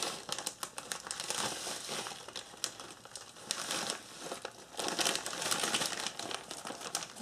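A slab of raw pork belly is shoved into a plastic bag, producing continuous close crinkling and rustling of plastic in irregular bursts, with no talking.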